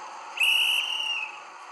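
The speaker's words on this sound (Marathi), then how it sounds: "शिट्टी वाजली, इशारा झाला." A sharp referee's whistle is blown once to start a bullock-cart race, a single steady shrill blast lasting under a second, loud and close against a light background hiss.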